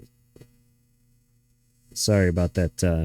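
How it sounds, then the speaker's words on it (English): A clothes dryer runs in the background as a faint, steady low hum, alone for about two seconds before a person starts talking over it. "noise in the background. That's the dryer."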